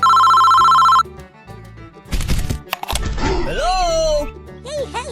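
A loud electronic phone ring sounds for a second, then breaks off into rustling and clattering handling noises with a voice speaking over them.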